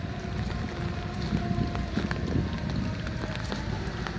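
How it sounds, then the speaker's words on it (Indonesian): A water pump engine runs at a riverside in Bekasi, a steady broadband mechanical drone with wind buffeting the microphone, continuous and fairly loud throughout with no talking. "mesin pompanya mulai difungsikan ya"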